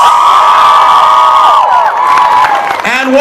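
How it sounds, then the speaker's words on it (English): A large fan crowd at a Harry Potter convention Q&A roars with loud cheering, high-pitched screams and whoops, with applause underneath, close and intense throughout. "One more big round of applause for Mr. Tom Felton!"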